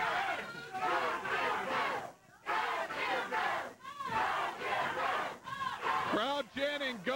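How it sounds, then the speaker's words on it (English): Arena crowd at a Memphis professional wrestling match chanting rhythmically in unison, loud, repeated voiced cheers rising and falling with brief pauses between chants. "go, Bill, go, they're chanting."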